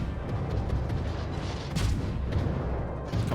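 Warship guns fire in World of Warships from a Khabarovsk destroyer, a dense continuous rumble of rapid booming salvos with no break, fairly loud and steady throughout.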